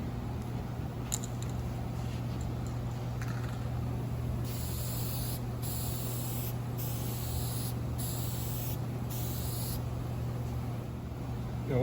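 An aerosol spray paint can from a repair kit hisses out touch-up paint in several short, close bursts over a steady low background hum, with no talking.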